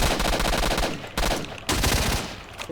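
Rapid automatic gunfire in S.T.A.L.K.E.R. Shadow of Chornobyl Enhanced Edition, loud and close, firing in sustained bursts broken by two brief gaps.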